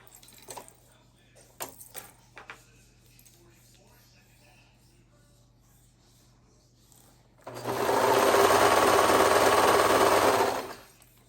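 A serger sewing machine runs a seam on fabric for a peanut-pattern garment, a loud steady whirring burst of about three seconds following quieter handling clicks and rustles.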